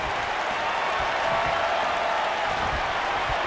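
A wrestling arena crowd in WWE 2K19, an NXT home crowd setting, roars in a dense, continuous wash of cheering and noise at steady, loud level, with faint thumps beneath.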